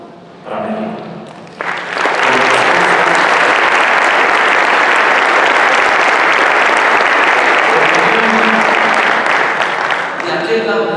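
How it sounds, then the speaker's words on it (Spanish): Crowd at a speech by the US ambassador to Mexico applauding for Mexico, loud sustained clapping rising after a short spoken line and filling the room, with speech resuming as it tapers. "un aplauso para México"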